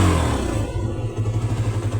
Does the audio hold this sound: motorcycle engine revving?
yes